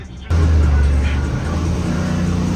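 A van engine stuck in first gear, unable to shift, roars suddenly to a loud, steady high rev, droning close by without shifting.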